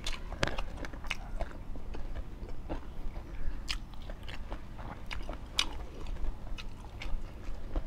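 Boiled cow nose cartilage chewed up close, giving a steady run of crisp, crunchy bites and wet mastication over several seconds, with no talking.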